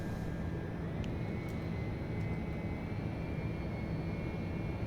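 Steady, loud engine drone of a TBM 900 turboprop in the X-Plane 11 flight simulator as it climbs after takeoff, a continuous broadband roar with a faint high tone running throughout.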